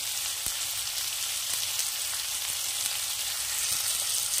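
Chopped tomatoes frying with garlic and ginger paste in hot oil, a dense, bright, hissing sizzle held close and steady, with a few faint taps of a spoon and no talking.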